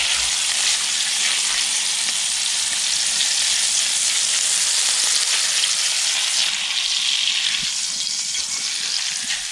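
Steak fries loudly in a very hot pan inside a shed during winter camping, giving a dense, constant spitting sizzle that holds steady throughout, close up and without voices.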